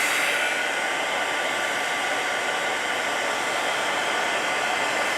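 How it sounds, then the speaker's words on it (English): A heat tool blows steadily to melt embossing glitter on a holiday card, a constant close whooshing roar like a hair dryer that runs unbroken throughout with no talking. "So I'm gonna hit this with my heat tool until it melts."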